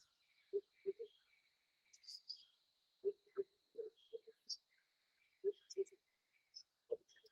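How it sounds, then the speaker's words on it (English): Birds chirp and call in a forest in Mexico, with short tonal notes recurring every second or so over a steady high insect-like drone, fairly faint and distant with no talking. "It's actually a soundscape from a forest in Mexico"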